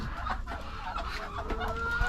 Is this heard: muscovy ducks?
yes